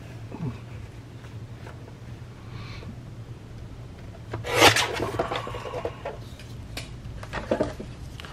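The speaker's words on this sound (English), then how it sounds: "I'm going to trim the top off a little bit" Scrap paper is trimmed with quiet rubbing and scraping strokes over a low background hum, with one louder, sharper cutting stroke near the middle and a few fainter ones after it.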